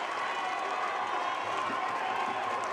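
A stadium crowd at a Dominica versus Jamaica World Cup qualifying football match keeps up a dense, continuous roar and cheer, heard as a broad wash of noise from the stands.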